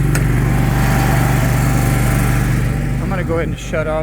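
A steady, loud, droning hum comes from the air compressor mounted on a 2012 Chevrolet Silverado K3500HD utility service truck, heard close and running continuously. A voice briefly joins near the end.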